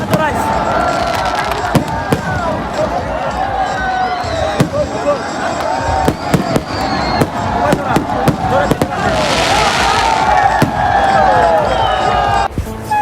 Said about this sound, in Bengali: মাঠের বাইরে বাজি ফুটাইতেছে